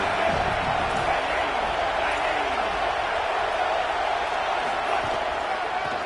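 A college football stadium crowd roars steadily from a distance, a dense and unbroken wash of noise that holds at one level throughout.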